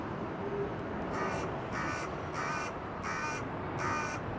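A crow caws five times at Heathrow Airport, harsh and evenly spaced, standing out over a steady background roar.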